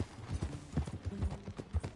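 Steady clip-clop of horse hooves trotting at a moderate pace in the video game Red Dead Redemption 2, fairly quiet with a soft rhythmic thud.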